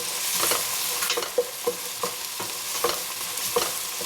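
Mushrooms crackle and sizzle steadily in a hot pan while cooking with honey, with soft scraping stirs at regular intervals and no voices.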